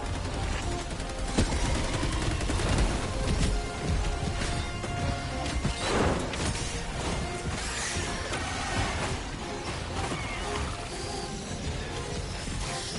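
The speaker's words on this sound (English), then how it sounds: "I'm really enjoying this new strategy with the mortars" Dense, continuous barrage of explosive mortar impacts and gunfire in the video game Helldivers 2, loud and sustained throughout with overlapping blasts and crackling debris, no clear gaps between hits.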